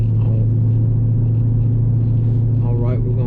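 Engine of a 2010 Camaro SS fitted with a skip shift eliminator drones steadily while driving, a deep constant rumble from inside the car with a brief rise in revs near the end.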